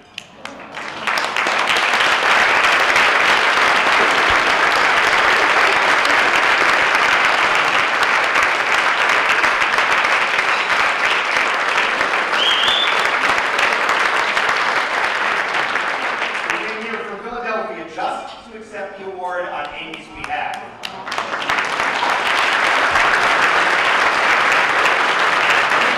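A large awards-ceremony audience delivers sustained, loud applause with cheering, a dense wash of clapping that briefly dips while a speaker talks over it, then swells again.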